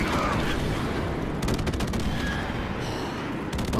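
Continuous automatic gunfire in a Call of Duty match, rapid overlapping shots rattling without pause from start to finish, loud and close.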